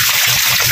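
Tap water gushes steadily over raw chicken heads being washed for grilling, a brief continuous splashing stream.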